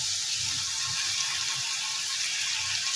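Washed spiny gourd pieces go into a pan of frying onion and garlic paste, producing a constant, fairly loud hissing sizzle with no pauses and no talking.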